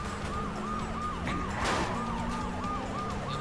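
A rising and falling ambulance siren wails steadily from a vehicle in the Wheelman driving game, repeating in regular cycles over constant engine and road rumble, with a brief loud burst partway through.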